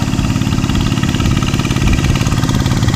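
A loud, close rice-farming tractor engine chugs steadily with a rhythmic mechanical throb in a paddy field in central Thailand, no voices.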